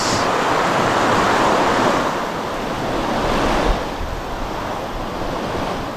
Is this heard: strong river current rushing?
yes